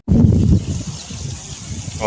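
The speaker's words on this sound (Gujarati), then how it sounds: "જમીનની અંદરથી પાણી નીકળે છે" Water rushes and gushes steadily from a borewell outdoors, loud at first then settling into a continuous flowing noise.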